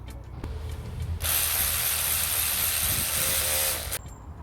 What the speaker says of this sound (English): We're going to tighten these 3 up, this one, and the one behind there.